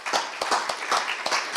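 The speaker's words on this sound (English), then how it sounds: "I think they deserve a round of applause." A small audience at a local candidates' debate claps in a brief burst, dense and close, with no talk over it.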